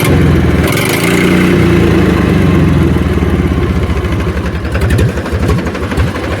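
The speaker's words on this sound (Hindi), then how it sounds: "तो भाई अलग ही साउंड है साइलेंसर खुलने के बाद।" Tractor engine with its silencer removed, running loud and close with a raw, rapid exhaust pulse that stays steady and then chugs more unevenly near the end, no talk over it.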